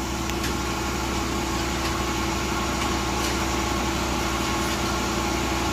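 A Suzuki DA65T mini truck with a K6A engine idles nearby, giving a steady, even hum with a faint regular pulse and no change in pace.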